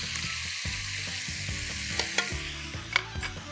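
Crushed garlic with salt and crushed black pepper fries in a pan, a steady close sizzle broken by occasional utensil scrapes and taps as it is stirred, with no talk.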